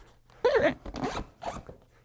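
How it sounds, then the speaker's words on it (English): A zipper on a Higdon Quick Draw hunting layout blind is pulled closed in a few short, raspy strokes, close and fairly quiet. "let's zip this back"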